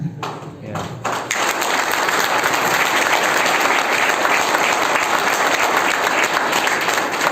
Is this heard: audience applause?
yes